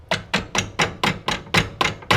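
A hammer raps on a supermini motorcycle engine case to split it apart, nine evenly spaced sharp metallic taps close to the microphone, without any voices.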